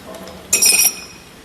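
Ice cube clinking once against a cocktail glass while a vodka and lemon juice drink sweetened with honey is mixed, a short bright chink that rings briefly and then fades.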